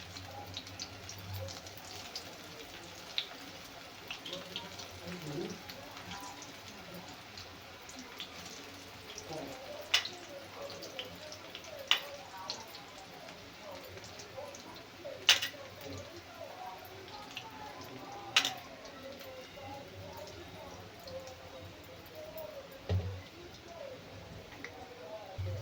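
Spinach pakoras frying in hot oil in a home kitchen, a steady faint crackle and sizzle with scattered sharper pops throughout, with low room noise beneath.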